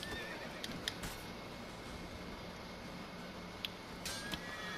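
A horse neighs in The Witcher 3: Wild Hunt, with a few short whinnies and snorts rising over a steady bed of in-game ambience, moderately close and without speech.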